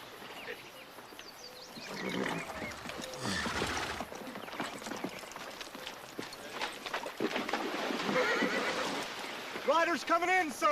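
Horses whinny and neigh near the end, a sharp descending call repeated, over clip-clop hooves and busy shouting voices as riders approach a cavalry camp.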